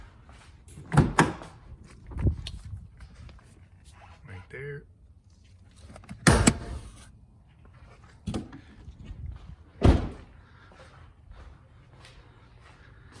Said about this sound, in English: you want to go over to the driver's side door and pop your hood